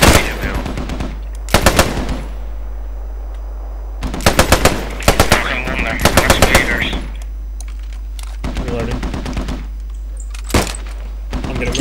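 Sustained automatic gunfire in the World War II shooter game Post Scriptum: loud, close bursts of rapid rounds repeated several times, with short pauses between bursts over a constant low rumble.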